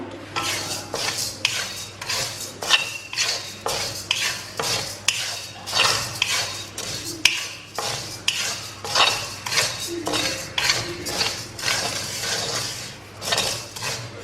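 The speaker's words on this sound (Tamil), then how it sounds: "ஃபர்ஸ்ட் இந்த ரெண்டுத்தையும் நல்லா வறுத்துருவோம்." Urad dal and chana dal are dry-roasted for idli podi, stirred in a metal pan with a spatula, giving repeated close scraping, rattling clinks in an uneven rhythm for fourteen seconds, with no talk.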